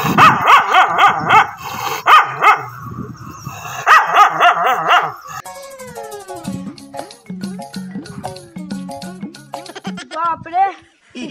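A dog barks in quick repeated yips and bow-wows at close range, with whimpering touches, alternating with a person's loud expressive speech; the dog's calls sound voiced and could be a human imitating a dog.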